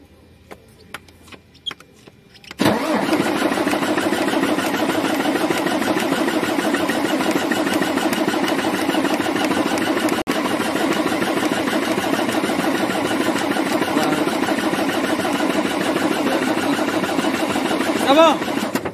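MAN TGA truck with a low-pressure fuel (EDC) starting problem: after a few quiet clicks, the engine catches abruptly and settles into a steady, loud idle with a clattering diesel rhythm, while voices talk faintly.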